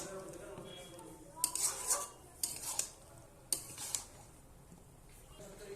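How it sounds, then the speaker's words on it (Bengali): A spoon stirs ripe mango curry with chilli powder and ginger-garlic paste in a pan, giving a few sharp metallic scrapes and clinks against the pan over a faint sizzle, with quiet gaps between strokes. "এবার আমি ভালোভাবে নেড়ে নেব।"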